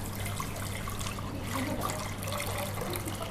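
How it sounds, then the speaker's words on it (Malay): Water runs steadily as it is poured into a pot for cooking beef meatballs (bakso), a continuous soft splashing stream heard alone, fairly quiet and even throughout. "akan masukkan air"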